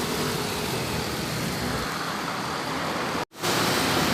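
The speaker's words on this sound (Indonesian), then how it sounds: "Bus pariwisata Fajar Rio Wisata tujuan ke Dumai via tol ini teman-teman." A Fajar Rio Wisata tour bus bound for Dumai roars past on a toll road, a dense, steady rush of engine and road noise that drops out briefly before resuming.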